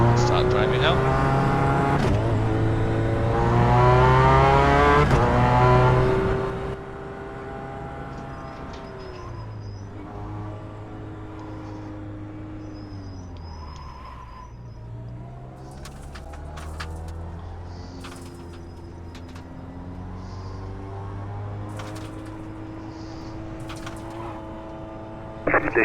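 Simulated race car engine in the iRacing sim, harmonic engine tones rising and falling as the car pulls away in first gear and drives through the pits, steady and close, with talk over it throughout.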